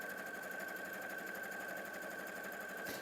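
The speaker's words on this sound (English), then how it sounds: "Now I'm going to sew one side on using 1/4 inch seam allowance." Sewing machine stitching a quarter-inch seam, a continuous even whirring drone with a fine rapid needle rhythm, steady and fairly quiet throughout, stopping abruptly at the very end, no talking.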